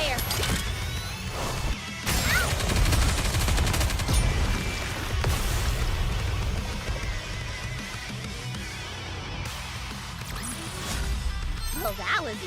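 Rapid gunfire and explosive crashes fill a battle in the video game Goddess of Victory: NIKKE, dense and loud throughout, with a voice speaking over the barrage.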